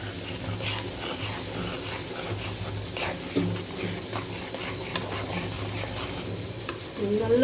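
Ragi flour being stirred into boiling water in a pot for ragi mudde, a steady wet scraping and bubbling that runs throughout, with low background hum and a louder clatter near the end.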